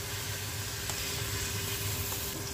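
Onions frying in a little oil for a Chicken Shashlik dish give a steady, even sizzle that runs for the whole short stretch, with no voices over it.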